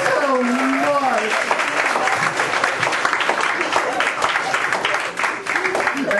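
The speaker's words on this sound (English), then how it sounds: "Give me a big round of applause." A comedy club crowd at The Comedy Store claps loudly and continuously, with a performer's voice briefly heard over the dense applause at the start.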